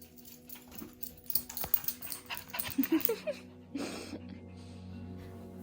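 An elderly dog, nearly 15, dashing through the house with zoomies: quick scrabbling paw taps on the floor, a few soft whimpery squeaks and a brief panting rush, close and fairly quiet.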